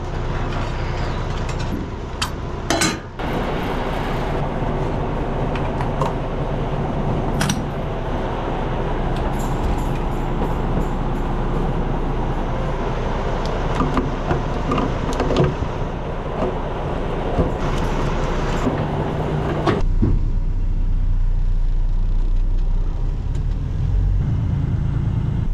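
An International Lonestar truck drives across a lot to park, a loud continuous engine drone with clunks and rattles along the way, ending in a deep idle near the end.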